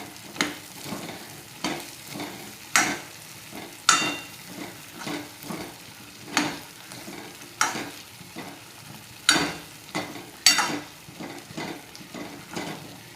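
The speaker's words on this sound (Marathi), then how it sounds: "आता ते सगळे वांगे टाकून घेऊ, त्याला पण चांगलं परतून घेऊ" Chopped eggplant (brinjal) stirred in a hot pan with masala, sizzling steadily under a regular rhythm of spatula scrapes and stirs, close and clear with no voices.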